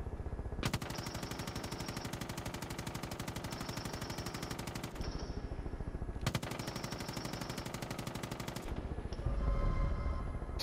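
Rapid automatic gunfire from the video game Far Cry 5 rattles on in two long, loud, continuous bursts, broken by a short pause, with no talk over it.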